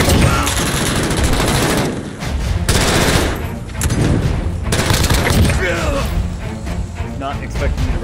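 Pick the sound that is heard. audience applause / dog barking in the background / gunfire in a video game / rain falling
gunfire in a video game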